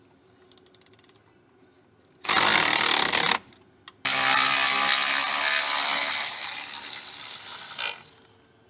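A power tool spins out the last bolt on the cross member of a 1956 Packard Clipper that sat for over twenty years, two loud bursts of whirring after a brief faint rattle, heard close with no talk.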